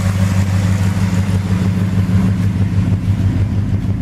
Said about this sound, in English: Lovely twin exhaust. FE big block sound absolutely amazing. Best sounding V8 I reckon.